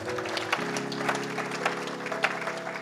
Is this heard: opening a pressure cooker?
no